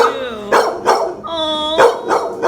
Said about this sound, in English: Look, they bark for attention.